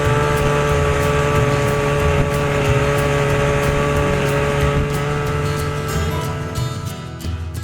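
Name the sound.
Evinrude 40 outboard motor running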